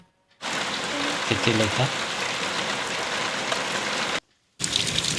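Steady heavy rain pours in a village home during a thunderstorm in Jharsuguda district, a dense unbroken wash that cuts out briefly near the end, with people talking softly over it.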